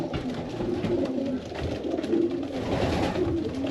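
Pigeons coo softly in a loft, a low murmuring rolling steadily through the clip with faint room noise and no talk.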